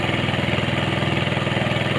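A wooden outrigger pagoda-style fishing boat's motor runs out at sea, a loud, steady chugging drone with an even rapid pulse and no pauses.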